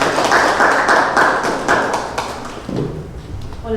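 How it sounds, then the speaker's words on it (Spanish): An audience at a medical session on diabetes updates applauds: dense, steady clapping for nearly three seconds, then thinning out as a voice begins. "Vamos a darle un aplauso por favor para que inicie con su presentación"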